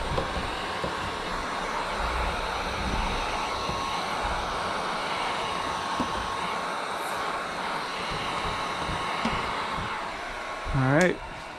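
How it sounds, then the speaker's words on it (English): A heat gun blows a steady, close whooshing roar while heating window tint film on a curved frameless car window, with a brief rising whine and rustle near the end. "Put the heat gun on this side."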